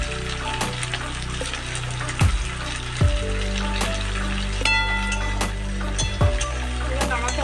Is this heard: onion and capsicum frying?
yes